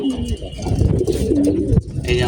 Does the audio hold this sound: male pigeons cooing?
yes